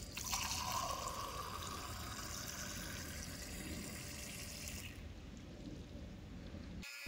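Water runs steadily from the tap of a DIY water system in an SUV camper, a continuous close splashing stream at good pressure that abruptly drops away near the end as the flow is shut off.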